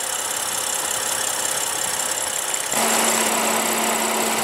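A BMW 2 Series Active Tourer with a 3-liter six-cylinder turbo idles near 1,300 RPM, a steady low engine hum that steps up partway through into a louder, firmer drone with a sustained low tone.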